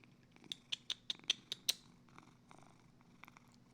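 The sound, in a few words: pet cat purring and meowing outside the door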